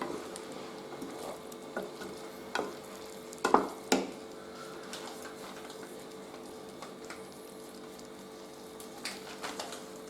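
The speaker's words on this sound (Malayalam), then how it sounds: "നമ്മൾ മിക്സ് ചെയ്ത് വെച്ചിരുന്ന അരിമാവിൻ്റെ ആ ഒരു കുറുക്ക് ഇതിൻ്റെ അകത്തേക്ക് ഒഴിച്ചു കൊടുക്കും" Rice flour paste cooks and is stirred in a pan for Kozhukkatta, giving a continuous soft sizzle and bubbling with occasional sharper scrapes and taps of the utensil against the pan.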